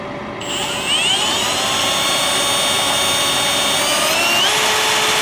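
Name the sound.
power drill drilling holes for self-tapping screws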